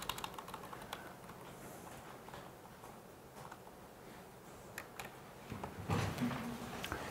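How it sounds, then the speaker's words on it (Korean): Keys clatter on a computer keyboard in quiet, irregular taps while pasting code, with a few firmer keystrokes such as Enter and Ctrl+V near the end and no voices. "여기 요 끝에다가 그냥 엔터 쳐가지고 컨트롤 V에서 그냥 다 붙여 버리자 그냥"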